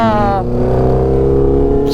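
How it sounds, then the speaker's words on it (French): A 2011 Yamaha Ténéré 660 motorcycle being ridden, its engine giving a steady, loud droning hum with a rising tone at the start, close by throughout. "roule avec cette moto, ce Ténéré de 2011 qui est en 600, c'est pas le 700, c'est 660."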